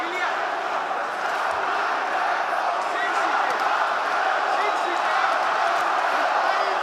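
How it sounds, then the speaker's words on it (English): A packed UFC arena crowd roars steadily and loudly throughout, a dense wash of cheering, shouting and whoops with no breaks, swelling slightly toward the end. "Having a hard time picking up who this crowd's actually rooting for."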